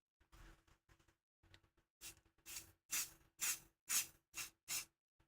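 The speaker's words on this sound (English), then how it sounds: "we need to spray it down with hairspray" Hairspray sprayed from an aerosol can over a resin casting piece, heard as about six loud, distinct hissing bursts in an uneven rhythm, with quieter scattered handling sounds before them.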